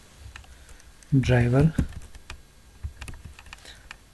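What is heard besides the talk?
typing Python code on a computer keyboard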